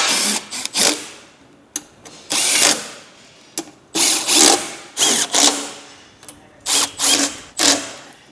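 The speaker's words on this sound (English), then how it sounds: "Get them all started before you tighten them down." A ratchet drives 6 mm T30 bolts on a cooling support bracket for an Ineos Grenadier, giving close, loud bursts of rapid clicking in short repeated strokes with brief pauses between them.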